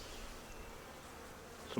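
A faint, steady buzz of honey bees hums throughout, droning nearby, with a short louder noise at the very end.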